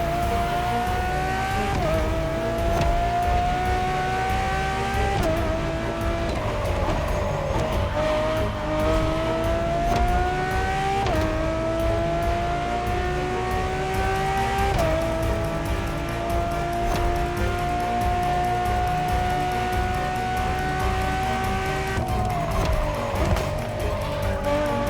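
A Ferrari Enzo's engine revs hard and climbs through the gears in The Crew Motorfest, each upshift dropping the pitch before it rises again, with tyres squealing throughout and no voices.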